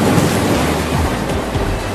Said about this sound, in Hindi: अरे पानी हमारे घर में कहाँ से आ गया? लगता है टंकी फट गई।